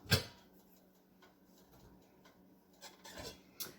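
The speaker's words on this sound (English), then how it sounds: "Just scraping this meat out of my lid here." Cooked ground meat being scraped off a pot lid back into the pot while making homemade chili: a few quiet, brief scraping strokes and light clinks spread across a hushed background, no talking.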